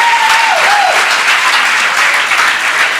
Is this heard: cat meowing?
no